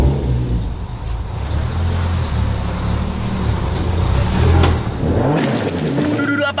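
A drift car's engine drones and revs loudly in a house's front yard, a steady close rumble that swells before a burst of clattering noise near the end.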